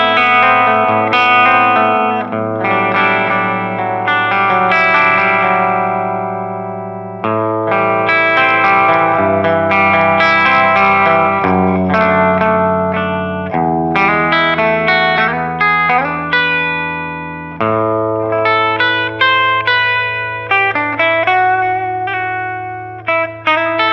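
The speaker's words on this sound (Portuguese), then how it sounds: "o som dos pickups trabalhando" A 2005 Gibson Les Paul Standard Faded electric guitar plays through an amplifier miked with a Shure SM57, sounding loud and distorted with chorus and reverb, strummed chords and picked notes ringing out alone.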